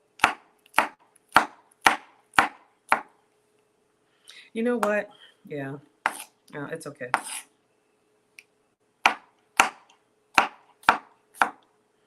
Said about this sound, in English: We're just doing some small rough chops, and then we'll get in here and dice it in a moment.